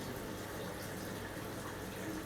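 Hot water valve of a Simpson top-loader washing machine filling the drum, a steady rushing hiss of water that stays even and continuous throughout.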